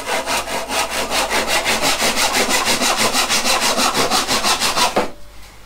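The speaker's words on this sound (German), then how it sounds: "dann säge ich das hier einfach bündig ab." A handsaw cuts protruding wood flush on a multiplex plywood workbench, producing a close, loud series of about two dozen rhythmic rasping strokes before stopping abruptly.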